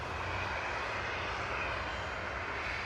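An EasyJet airliner arriving from Geneva touches down at Manchester Airport, heard as a steady, broad roar of jet engines with no break, fairly distant and even throughout.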